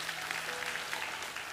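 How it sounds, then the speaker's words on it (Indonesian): Brief, dense applause from a church congregation, steady clapping filling the whole moment at close range. "Berikan tepuk tangan untuk Tuhan Yesus"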